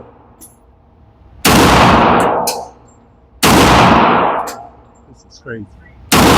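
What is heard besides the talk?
1911 single-stack pistols firing at a shooting range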